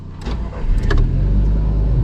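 A Volkswagen Touran's engine cranks and starts up close, a short whirring start followed by a steady low idle rumble that continues to the end.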